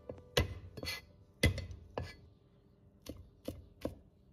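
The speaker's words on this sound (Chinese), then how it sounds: "然后剁碎，做凉拌菜，蒜蓉一定要剁细一点" A knife chops garlic cloves finely on a cutting board, giving sharp, quiet, irregular knocks, sometimes in quick pairs, with pauses between and no talking.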